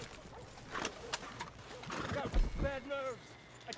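Horse hooves clopping and a short neigh from Red Dead Redemption 2 gameplay, heard at moderate level mixed with game sounds, with someone talking over it.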